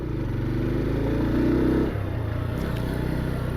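Close, steady engine drone from a Bajaj Pulsar N125 motorcycle being ridden at moderate speed, rising slightly before easing off, with faint clattery road noise and no voices.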